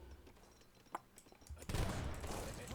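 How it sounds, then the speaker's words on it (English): Cannon fire in the real-time strategy game Age of Empires, with faint scattered pops and then a dense, loud burst of rapid booms rolling together during battle. "Poor elephant, taking all these cannon shots to the leg."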